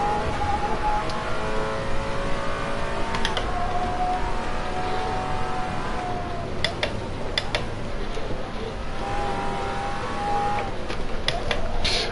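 A naturally aspirated race car engine in the game Assetto Corsa revs and drones continuously at high pitch, shifting up and down, with faint clicking.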